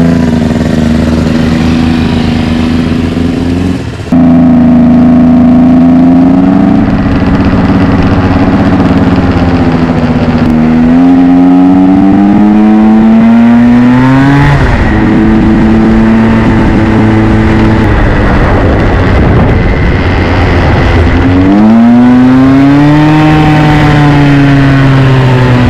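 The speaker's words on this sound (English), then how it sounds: "So we're gonna ride these two bikes up to the pub and check out the other scooters." Honda Scoopy motor scooter engines run loudly and close at a winter scooter rally, revving up and down in rising whines with steady idling between bursts.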